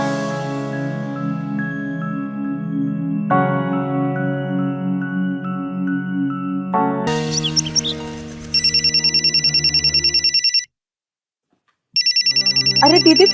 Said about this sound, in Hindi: अरे दीदी, फोन बज रहा है